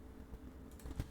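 A few soft keystrokes on a computer keyboard as a terminal command is entered, faint at first and then a short cluster of clicks toward the end, no talking.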